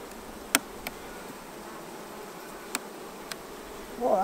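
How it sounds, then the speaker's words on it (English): Honeybees buzz softly around an open hive during a beekeeping inspection, a faint steady hum with a few short sharp clicks and a brief louder rustle near the end, no voices. "At least the bees are being gentle today."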